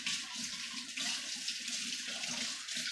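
Tap water runs steadily as canning jars and canning tools are rinsed, a continuous bright splashing hiss with no talk.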